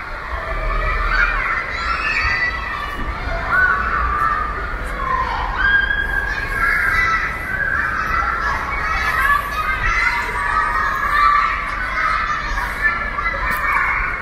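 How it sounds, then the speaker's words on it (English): Schoolchildren scream and shout at play behind a wall near Granary Square and Coal Drops Yard at King's Cross, London, a steady, busy crowd din that carries on without a break. "that's the kids' school, which is why you can hear them screaming on the other side of that wall"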